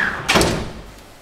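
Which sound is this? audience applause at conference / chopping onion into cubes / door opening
door opening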